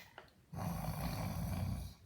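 A voice imitates loud snoring for a sleeping character in a nursery storytelling of Goldilocks and the Three Bears, a sustained low rumbling snore starting after a brief quiet lead-in and filling the rest of the moment.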